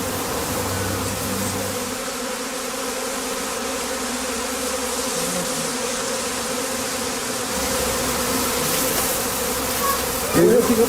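Honey bees buzzing around a bee skep, a continuous dense droning hum of many insects close by, steady throughout with slight swells and a faint disturbance at the end.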